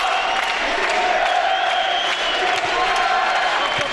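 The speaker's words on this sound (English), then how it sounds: "Fans are cheering again." Crowd noise from volleyball fans filling an arena during a 2012 Fenerbahce match, a steady, dense roar of cheering and applause lasting throughout without a break.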